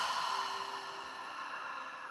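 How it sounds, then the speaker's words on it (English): A slow, steady exhale during a guided breathing exercise, a soft continuous airy breath lasting about two seconds, close and fairly quiet with no talk over it. "And exhale."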